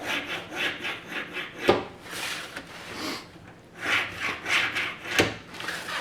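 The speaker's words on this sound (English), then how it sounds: "we just put a 1/2-inch scribe all the way down each of the 4 sides" A scribe drags along a sheet metal patch in repeated short rasping strokes, close and fairly loud, with sharp clicks between some passes.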